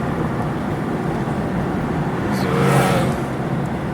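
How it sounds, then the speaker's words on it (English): A manual-transmission car engine is over-revved while sitting in neutral. It makes a steady, loud drone that swells briefly in pitch and volume toward the end, with no voices over it. "Oh, you're over revving it."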